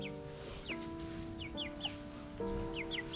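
Chickens cluck softly in short, scattered calls over a steady low hum, the birds sounding close but quiet.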